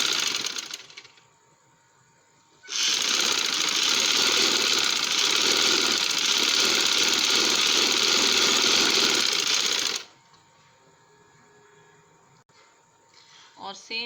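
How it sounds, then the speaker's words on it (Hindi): Sewing machine stitching trouser fabric, running in one steady loud whir for about seven seconds, with quieter handling noise before and after the run. "एक पाँव छोड़ के मैं सिलाई लगा रही हूँ"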